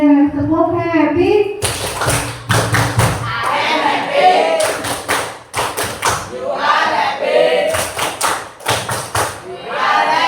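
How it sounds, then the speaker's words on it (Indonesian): A classroom of children performs a rhythmic clapping routine, loud bursts of group claps and thumps in patterned sets, with a teacher's voice and kids' chanting woven between the claps. "Oke, sekali lagi deh, tepuk happy."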